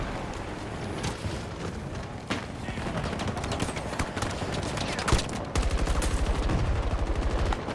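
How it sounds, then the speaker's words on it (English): Sustained gunfire from a 64-player Breakthrough battle on the Hourglass map in Battlefield 2042: dense, rapid automatic bursts overlapping with sharp shots and booming blasts, loud and continuous throughout. "That was some dope suppressive fire."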